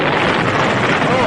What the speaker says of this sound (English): You got a chopper behind